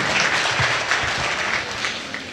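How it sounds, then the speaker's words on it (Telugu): Audience applause at a Telangana cultural gathering honouring a singer, a dense, loud burst of many hands clapping that carries on steadily before easing slightly at the end. "గట్టిగా చప్పట్లు కొట్టండి"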